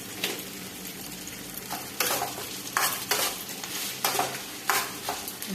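Green chillies and vegetables for samosa filling roasting in a pan: a steady sizzle with periodic scraping strokes of a spatula, close and moderately loud.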